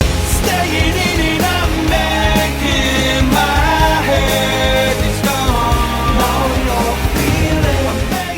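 An excerpt of the single plays continuously with a full band mix and a singing voice over dense instrumentation, loud and steady throughout.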